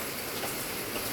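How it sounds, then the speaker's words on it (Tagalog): Heavy rain pours down steadily during a windless first rainy day in San Mateo, California, a dense, even hiss close by with no voices. "tingnan mo kayo, lakas ng ulan dito."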